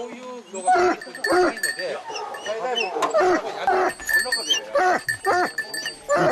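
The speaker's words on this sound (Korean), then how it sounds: "사냥개 짖는 소리가 시끄러운 걸 보니 이제 곧 사냥이 시작되려는 참인가 봅니다." Several hunting dogs bark loudly and repeatedly in an excited, overlapping chorus before a wild boar hunt in Japan, with people talking nearby throughout.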